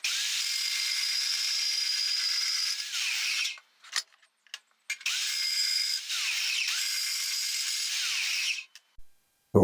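A power drill bores holes in brass folding-knife liners, running as two long steady high whines, close and loud, with a short gap of clicks and handling noise between them and no talking.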